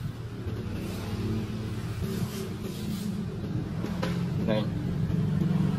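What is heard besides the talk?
Honda Wave Alpha motorbike engine running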